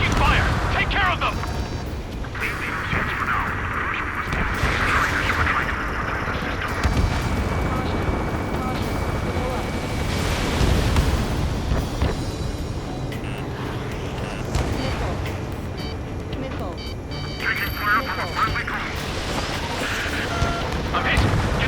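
Combat in Ace Combat 7, with a steady roar of aircraft and action punctuated by booming explosions and gunfire throughout, while voices talk over the din.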